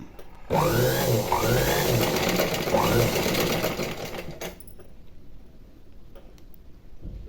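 A domestic sewing machine with a normal presser foot stitches thread piping in a steady loud mechanical whir with rhythmic ticking of the needle, then stops abruptly, leaving faint room noise.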